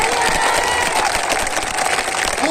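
A big audience at a police constable honors ceremony claps loudly and continuously, a thick, close wall of applause from start to finish.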